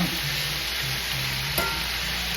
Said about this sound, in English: I'm going to let this fry and we'll be ready to go in the oven